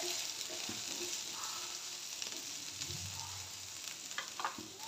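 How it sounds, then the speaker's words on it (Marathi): Paneer and soya chunks frying in oil, a soft, continuous sizzle with light stirring scrapes, fairly quiet and close, with no voices. "आपण जे पनीर आणि सोया चंक्स असे टॉस करून घेतलेले ना तेलात ते ॲड करायचे"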